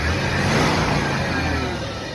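A Ford F-Series truck engine revs in a loud, continuous roar that holds steady for a couple of seconds, close by and with no voices.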